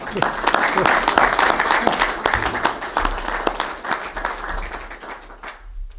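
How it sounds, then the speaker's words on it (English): Audience applause follows a ceremony speech, a dense spread of clapping with some voices mixed in, fairly loud at first and tapering gradually toward the end. "now you can give applause to all those people that did all the work"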